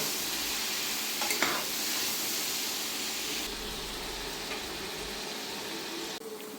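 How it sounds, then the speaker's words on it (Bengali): Spiced masala and potatoes frying in a pan for a tengra fish curry with long beans, a continuous close sizzle with stirring scrapes throughout and no voices. "মশলাটা কষানো হয়ে গেছে, আলুটা সুন্দর করে ভাজা হয়ে গেছে।"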